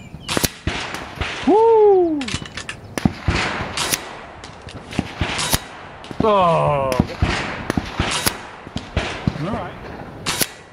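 A Kral Puncher Jumbo air rifle fitted with an Altaros regulator fires at an outdoor range, with a series of sharp cracks at irregular intervals, mixed with excited voices and whooping.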